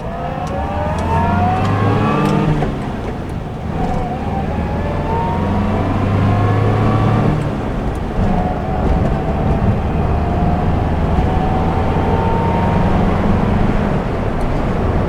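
A 65-year-old Wolseley 1500 classic car drives steadily with its engine note rising and falling through gear changes, a continuous close, loud drone with no talking.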